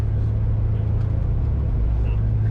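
Car engine on a racetrack during a track day, a steady loud low drone and rumble that holds throughout with no clear break or rev change.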